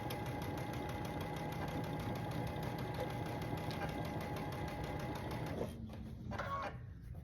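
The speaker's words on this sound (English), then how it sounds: "So I'm gonna sew a 1/4 inch down that seam, taking my pins out as I go." A sewing machine stitches a quarter-inch seam on a quilt block with a fast, even mechanical chatter, running steadily close by, then slowing and faltering near the end.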